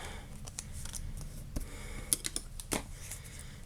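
Scissors snipping through heavy 250 gram paper while making a 3D paper pouch at a craft table, a few quick close snips and paper rustles, fairly faint.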